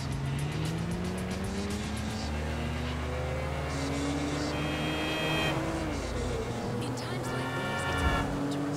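A car driven through the streets in Grand Theft Auto V, its engine droning steadily throughout with rising and falling revs and rushing road noise, while game characters talk over it.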